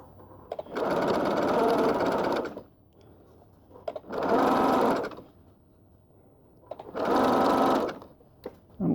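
Sewing machine running a blind hem stitch along a trouser leg, three steady bursts of fast whirring stitching, each about two seconds long, separated by short quiet pauses, close and alone.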